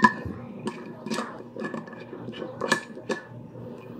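An Aquaflask tumbler lid and its accessory clip are snapped shut, giving several close, sharp plastic clicks and clacks with irregular spacing against a quiet background.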